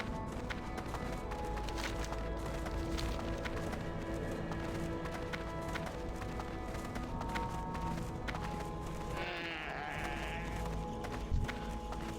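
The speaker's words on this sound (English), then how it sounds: "Wild mountain goats." Wild mountain goats bleat in the World of Warcraft: Mists of Pandaria game world near Kun-Lai Summit, with a higher bleating cry late on over a dense bed of game ambience and hoof-like clatter.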